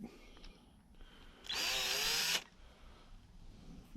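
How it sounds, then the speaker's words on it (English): A small power drill whirs for about a second, a brief high-pitched burst boring a hole with a half-millimetre bit in a wooden model ship, surrounded by quiet room noise. "1/2 millimeter drill bits, poking a hole in there for that wire"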